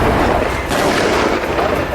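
Gunfire and explosions in a battle zone in Khan Younis, Gaza, a dense, loud wash of shots and booms with no clear gaps, running continuously as if close by.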